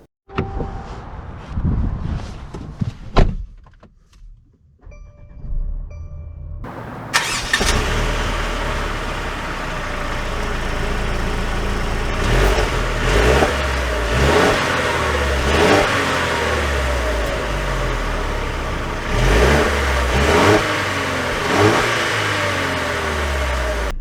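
A 2021 Mercedes C 300 with a start-up chime and clicks, then the engine fires and settles into a steady idle before pulling away, with the revs climbing and shifting repeatedly through a long acceleration heard from the cabin.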